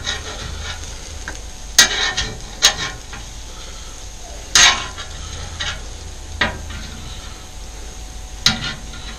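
Steak and ham pieces frying in a pan for an omelet: a low steady sizzle with occasional sharp scrapes and clicks of a utensil against the pan, close, no talk.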